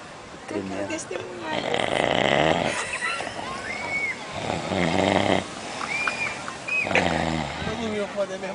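A man snores on a beach at Praia Grande, with repeated rasping, throaty snores in a steady rhythm, close and fairly loud, while other people talk over and between them.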